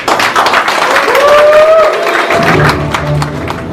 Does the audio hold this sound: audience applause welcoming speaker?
yes